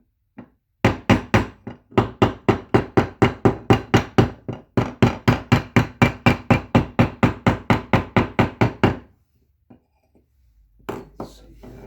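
Steady run of about thirty quick, moderate hammer taps drives a part down onto a GM 2.4 Twin Cam engine during assembly, close and even in rhythm, ending in a few faint knocks and handling noise.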